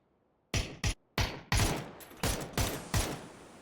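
Bursts of gunfire ring out in a PUBG firefight: about seven loud, close rapid volleys come in quick succession after a brief quiet start.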